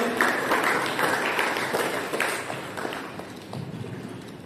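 Audience clapping at a karate belt distribution ceremony at a Girgaon karate class, a dense, steady wash of applause from a crowd that carries on throughout and fades slightly toward the end.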